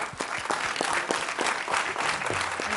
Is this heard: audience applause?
yes